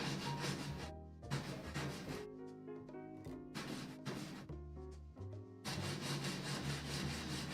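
Wood is hand-sanded for a folding camp tray table, with steady rubbing strokes in repeated bursts and short pauses between passes, close and fairly quiet.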